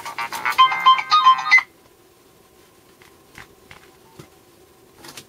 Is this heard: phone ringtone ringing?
yes